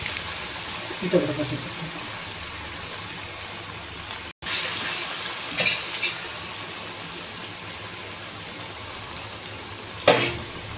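Food frying in a pan and stirred, a steady soft sizzle with clinks and scrapes from a utensil at a few points, close and fairly quiet, with a brief cut partway through.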